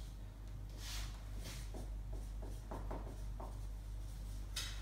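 Marker writing on a board in a quiet room: a series of short scratchy strokes in irregular bursts under a steady low hum.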